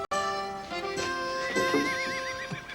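Horses whinny close by in a Pony Express setting, giving a loud, wavering neigh with a trembling, falling end over a short span of snorts and stamping.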